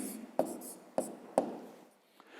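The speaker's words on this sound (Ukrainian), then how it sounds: "ну а зараз пишемо відповідь" Pen or chalk strokes sound as an answer is written by hand for a fifth-grade maths exercise: three crisp taps spaced about half a second apart, each followed by soft scratching, faint and close, with no talk.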